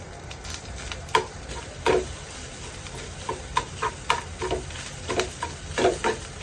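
A spoon or spatula stirs and scrapes the coconut modak filling as it roasts in a pan, giving irregular close scraping and tapping strokes over a soft background sizzle.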